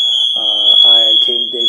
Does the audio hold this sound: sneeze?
no